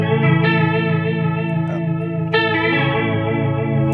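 An electric guitar runs through a Sub 'N' Up Octaver pedal with chorus mixed fully wet, so the dry tone drops out and a wavering, distorted vibrato sustains with a fresh attack midway.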